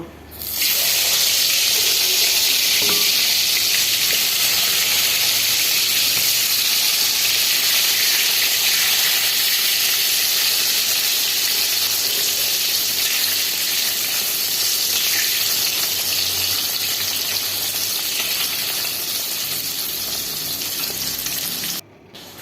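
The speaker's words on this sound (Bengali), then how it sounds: "ভাজাগুলোকে ভেজে নেব" Food fries in a pan in a home kitchen, a loud, continuous sizzle and crackle that holds steady for over twenty seconds and then stops abruptly, with no talking.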